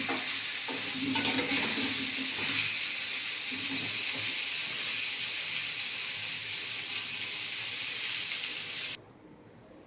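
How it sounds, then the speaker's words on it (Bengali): Pointed gourd (potol) frying in hot oil gives a continuous loud, close sizzle with occasional stirring scrapes, holding steady for about nine seconds before cutting off abruptly. "পটলগুলো দিয়ে ভালো করে ভেজে নিতে হবে।"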